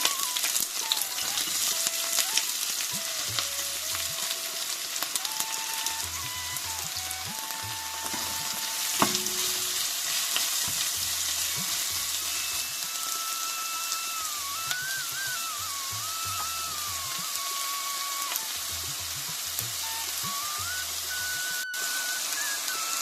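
Chopped onion and green chilli pieces fry with a dense, steady hiss in hot oil for an Andhra goat curry, a continuous close sizzle with a faint tonal whine above it and no talking.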